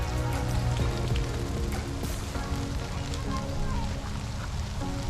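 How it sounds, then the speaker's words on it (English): Steady heavy rain falls outdoors on a dog walk, a dense continuous hiss of drops on surfaces with no pauses. "It's raining more, Maggie, and you're gonna be completely wet."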